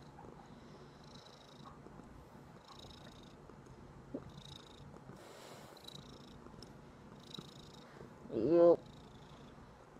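A pet cat purring softly and steadily close by while lying on a person, with a brief voice and a louder rustle near the end.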